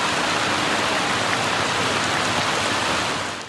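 Heavy rain pouring steadily during a flood, a dense, loud, unbroken hiss of water that holds level throughout and eases slightly at the very end.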